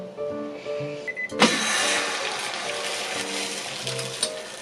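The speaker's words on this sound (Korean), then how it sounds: "소리 들려요? 지글지글지글 넣는 타이밍입니다." Eggs poured into hot oil start sizzling and crackling loudly partway through, a steady frying hiss that follows a quieter stretch with some faint tonal hum.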